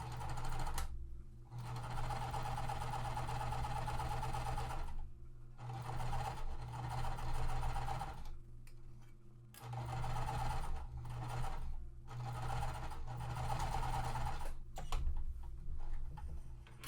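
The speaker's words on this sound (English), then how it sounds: "and we'll sew across." A domestic sewing machine stitches across quilt pieces in a series of short, even runs of rapid mechanical whirring, each separated by brief pauses, close and moderately quiet.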